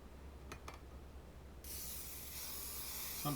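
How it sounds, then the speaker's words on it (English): After a few faint clicks, a steady close hiss of cooking spray onto a pan starts abruptly and continues to the end. "The first thing I'm going to do is spray my pan"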